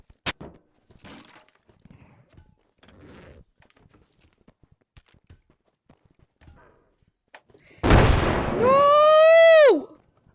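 A rocket blowing up in the VR game Animal Company, a loud, sudden blast with a rough roar lasting about two seconds, followed by a falling whistle-like tone, after quiet taps and movement noises.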